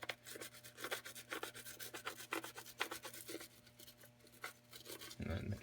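Steady scrubbing of a dental instrument tray at a sink before autoclaving, a brush rubbing rhythmically over the grooves and sides in short repeated strokes, close and moderately loud, ending with a louder rushing burst.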